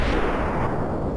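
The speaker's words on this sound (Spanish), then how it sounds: "¿Y sabes por qué se llama superbomba? Porque hasta una gran explosión." A super bomb detonating in Super Metroid, a dense, loud rumbling blast that fills the moment with sustained low roar and crackle, no voices over it.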